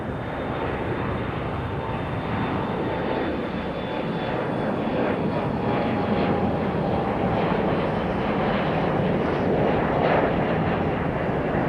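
A United Embraer E175 jet departs Raleigh-Durham International, its engines a steady broad roar that holds strong and loud without a break, with no talk over it.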